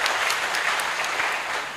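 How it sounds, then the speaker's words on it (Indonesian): Students applaud at a public university lecture, a dense, steady wash of clapping from a large audience filling the whole short stretch without pause. "Jadi tepuk tangan buat seluruh teman-teman mahasiswa."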